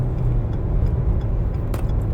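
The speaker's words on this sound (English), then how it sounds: "Sorry, I'm driving, y'all. Get past this truck." Steady low road rumble of a car driving past a tractor trailer truck on the highway, a continuous close drone with a brief brighter whoosh near the end.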